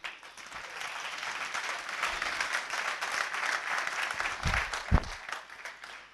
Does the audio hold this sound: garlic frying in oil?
no